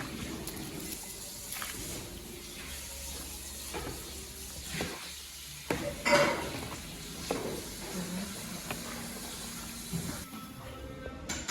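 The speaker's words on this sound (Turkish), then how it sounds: "annem domateslerini kızarttı ve tuz ekledi" Tomatoes fry in a pan with a soft, continuous hiss and sizzle, faint and close, broken by occasional clinks and stirring noises.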